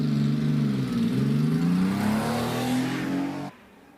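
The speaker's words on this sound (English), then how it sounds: "Nice sound from the flat 6 engine." Air-cooled 3-litre flat-six Porsche at the Shelsley Walsh hillclimb accelerating hard off the line, a loud, rising raspy engine note climbing steadily through the revs, then cutting off abruptly.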